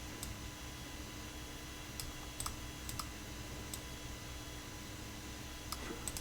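Keys clicked on a computer keyboard switched to a Russian layout, a handful of light, sparse taps spread irregularly over a steady hiss of background noise.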